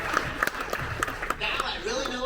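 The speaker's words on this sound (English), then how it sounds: "All right, give a round of applause." A short burst of scattered clapping from a small audience mixed with background voices and movement, the claps uneven and brief.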